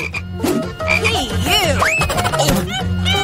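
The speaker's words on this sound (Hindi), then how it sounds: "ये तुम्हारा मेंढक है" Frog croaking repeatedly and loudly in a playful challenge scene, rhythmic croaks and chirping calls close up, with dense layered pulses throughout and no talk.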